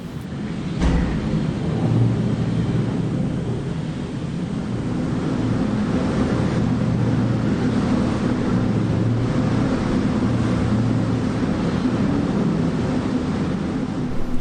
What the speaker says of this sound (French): beaucoup de vent là.